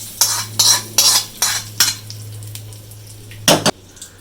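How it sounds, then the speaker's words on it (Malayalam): Mustard seeds tempered in hot oil for a ginger curry made with chilli powder: a series of short, loud bursts of crackling and metallic spoon clinks at a regular pace, then a quieter stretch and one last burst. "അപ്പോൾ ഒരു ശകലം കടു തളിച്ചാലോ നമുക്ക്."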